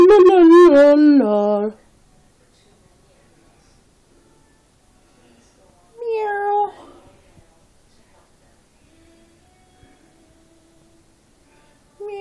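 A cat in a bathtub gives a few short, drawn-out meows, close and clear, separated by long quiet gaps.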